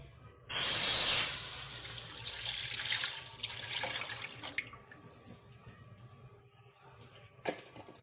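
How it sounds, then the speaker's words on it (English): Already boiled milk, 1.5 liters, poured from a container into a pot, a splashing liquid stream that starts loud, eases into a softer trickle and fades, with a brief clink near the end. "Now we will pour it into this."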